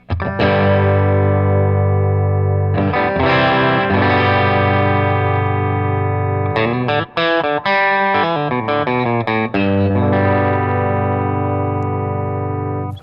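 Overdriven electric guitar chords from a Fender Custom Shop Empire '67 Telecaster Relic on the bridge pickup, tone and volume full, ring out loud and sustained, then quicker strummed and picked phrases with a gritty, saturated edge, played alone.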